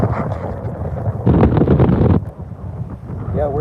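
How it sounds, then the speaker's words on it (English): Strong wind buffets the microphone on a small fishing boat out catching bait, with loud gusting rumble that swells and drops. A brief voice comes in near the end. "Yeah, it's windy, huh?"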